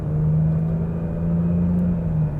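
A 2024 Nissan Rogue Platinum in eco mode pulls away at almost half throttle, giving a steady, close engine drone with a low hum and no talking.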